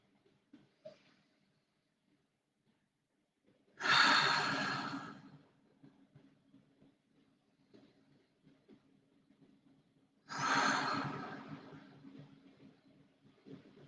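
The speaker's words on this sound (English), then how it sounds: "letting the belly rise on the inhale, letting the chest expand on the inhale, letting it fall on the exhale." Slow, deep breaths during a breathwork meditation session, with two long, loud exhales several seconds apart and faint quiet breathing between them in an otherwise silent room.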